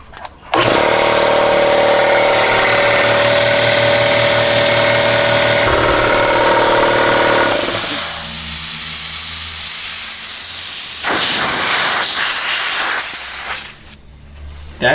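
A repaired air compressor switches on and runs loud and steady for about seven seconds while pressurising the air lines. A hissing rush of air follows, then the motor winds down with a few brief bursts of hiss near the end.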